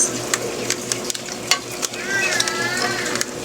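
Spicy eggplant sautéed with dried fish sizzles briskly in a pan, broken by several quick clinks and scrapes of stirring, with a faint voice in the background.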